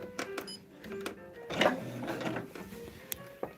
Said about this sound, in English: We're just going to sew down this line, you guys.